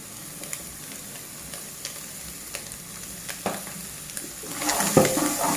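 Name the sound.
green peppers added to browned onions, frying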